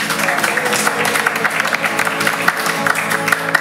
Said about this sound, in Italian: fate un applauso a tutti quanti